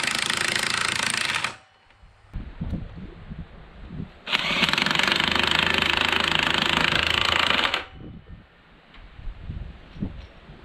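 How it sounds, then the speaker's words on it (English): A high-torque impact driver hammers a 4-inch, 1/2-inch lag bolt into solid fir in two loud, close bursts of rattling impacts, the second burst running several seconds, with quieter handling noises in between. "This guy had no trouble walking a 4-inch long, 1/2-inch lag bolt into the solid fur."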